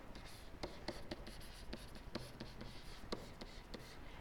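Pen or pencil writing by hand, working through a math problem on solving systems of equations by graphing: soft, continuous scratching with a run of brief, sharper tapping strokes, faint and close, with no voices.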